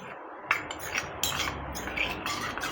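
Spoon stirring a cornflour and water mixture, close clinks and light scrapes of metal against the vessel in an uneven rhythm, with quiet gaps between strokes.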